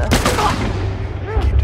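Bolt-action sniper rifle in The Last of Us fired in quick succession, loud close cracks with rumbling tails packed into under two seconds, with a voice faintly underneath.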